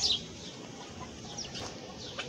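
Chickens cluck softly here and there over a noisy outdoor background, with no one speaking.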